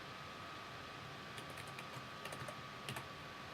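Keys tapped on a computer keyboard while a search query is entered on a web page: two short bursts of quick, light clicks over steady fan hiss, fairly faint and with no talking.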